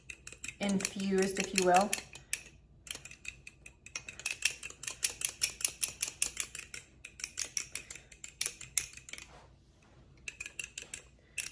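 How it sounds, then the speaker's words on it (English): A fork clinks and scrapes against a bowl while whisking Dijon mustard and maple syrup together, in a quick steady rhythm of light metallic taps, close and fairly soft, with a brief spoken remark near the start. "I like to mix it with a fork"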